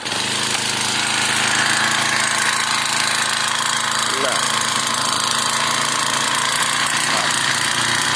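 A lawn mower engine, just reassembled after intake and exhaust valve repair, runs at a steady loud idle with a rough, chattering mechanical rhythm close to the microphone throughout.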